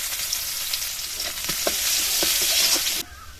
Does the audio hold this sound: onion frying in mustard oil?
yes